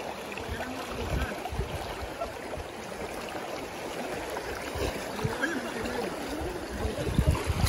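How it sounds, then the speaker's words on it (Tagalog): A strong river current rushes and churns around people wading through deepening water on a rescue mission, a dense, continuous flowing roar heard close up with no clear talk over it. "Lumalakas yung agos, yun."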